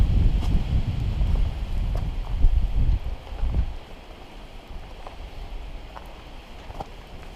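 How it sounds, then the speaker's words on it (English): A strong 40 mph wind buffets the microphone on a winter hike toward Charlies Bunion. Deep, rumbling gusts roar for a few seconds, then ease into a softer, steady rush of air. "There's a 40-mile-an-hour wind again."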